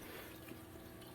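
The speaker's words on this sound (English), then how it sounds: "began to fill it with pre-treated, pre-cycled water" Pre-treated water runs steadily into a fish tank, a continuous close, even rushing and splashing texture with no pauses and no speech.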